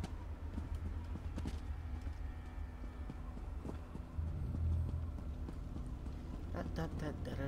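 Horse hooves in a video game clip-clop steadily at a walking pace over a low rumble, with a burst of busier clattering toward the end.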